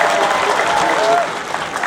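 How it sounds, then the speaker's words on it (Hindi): Audience applause at a student union foundation day prize ceremony in Palin, Kra Daadi district, a steady wash of clapping from a crowd that carries through the whole moment before easing slightly toward the end. "प्लीज एक बार जोरदार तालियां हो जाए"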